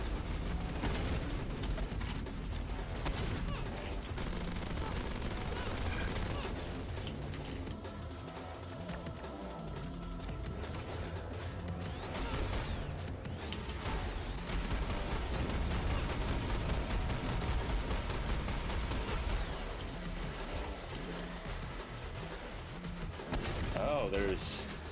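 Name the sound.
machine gun fire in a video game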